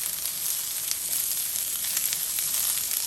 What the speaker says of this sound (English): we're gonna go ahead and stir fry the onions here first